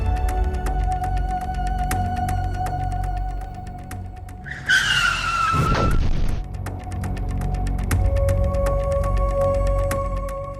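A car brakes hard and its tires skid with a loud, rising squeal lasting about a second, set against a steady dramatic music backdrop in a Pakistani TV drama scene.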